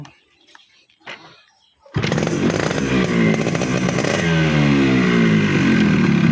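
A 100cc motorcycle engine is started after a couple of quiet seconds, then idles and revs loudly and close by, its rough clattering drone rising and falling until the end.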